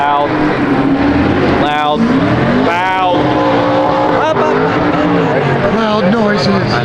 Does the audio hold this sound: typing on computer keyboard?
no